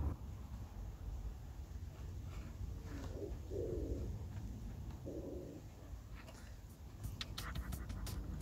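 Pigeons coo softly at a distance in an outdoor garden, two or three low muffled coos over steady background hiss and faint traffic, with no talk.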